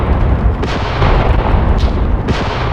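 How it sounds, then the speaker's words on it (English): Mortar fire in the wartime tactics game Graviteam Tactics, with 5cm mortars pounding enemies coming over a hill: a steady roar of booming detonations and rumbling blasts, several distinct thumps rising out of continuous loud battle noise. "Not good, but they are getting the mortar treatment."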